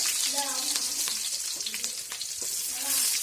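Onion frying with mustard seeds and curry leaves for a pumpkin dish, a bright close sizzle with crackling pops and a few stirring scrapes, along with a faint voice-like tonal sound.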